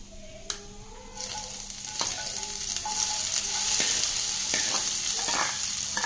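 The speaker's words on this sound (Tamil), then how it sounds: "கலந்து விட்டுறலாங்க. வெங்காயம் வதங்கட்டும்." Chopped onion and curry leaves fry in a pan with a loud, close crackling sizzle that builds after a few stirring knocks, with no one talking.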